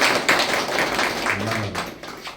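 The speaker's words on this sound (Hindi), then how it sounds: "तालियां एक बार होना।" Audience at a school teacher's farewell ceremony applauds, a short burst of dense clapping close by that thins out toward the end, with a faint voice underneath.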